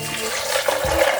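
Water poured over cashews for homemade cashew milk, a short steady splashing gush of liquid into a container.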